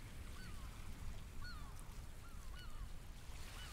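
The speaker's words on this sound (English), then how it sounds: "There's nice seagulls here in the background sound simulation" Seagull cries from the background sound simulation of the 1984 space game Elite running in a BBC Micro emulator: several short, faint rising and falling calls over a steady noisy hiss.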